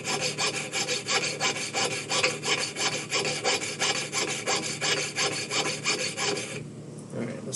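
Steady rhythmic rasping of a rotary grinder or file working down a carved wooden cat's ear, repeated strokes close and loud for several seconds before stopping abruptly.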